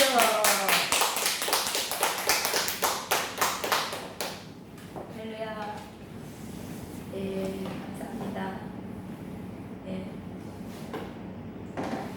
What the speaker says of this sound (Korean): 나오실 때 우리 박수로 환영하겠습니다